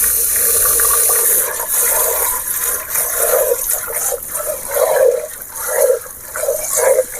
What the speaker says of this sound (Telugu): ఈ పప్పు వాష్ చేసుకోవాలి.